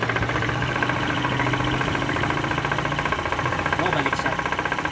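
A motor-driven friction test machine runs with Petrolub lubricant oil, with a TMX 125 model mentioned alongside it, giving a steady mechanical hum with rapid knocking pulses and a faint high whine, loud and close throughout while someone speaks over it.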